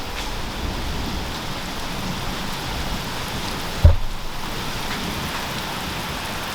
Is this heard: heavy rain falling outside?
yes